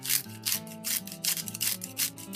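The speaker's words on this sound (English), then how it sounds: "So this is a grinder as well." Spicy garlic seasoning ground in a small handheld spice grinder, giving a rhythmic gritty rasping in quick repeated twists, close and fairly quiet, with no talk.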